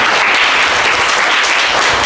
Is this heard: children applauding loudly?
yes